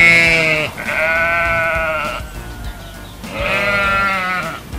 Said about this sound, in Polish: Owca beczy. Be, be.